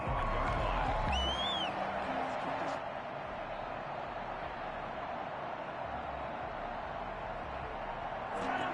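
A stadium crowd at a Kansas City versus Broncos American football video game match makes a steady, distant roar and murmur, with a few faint whistles and whoops early on.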